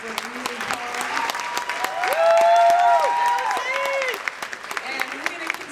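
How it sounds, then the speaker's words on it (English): Applause from an audience at a football team awards event, honouring the coach, rising to a steady peak midway and tapering off, with voices and cheering mixed in. "we can give her a round of applause"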